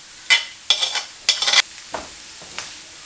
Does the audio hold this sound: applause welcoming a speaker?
no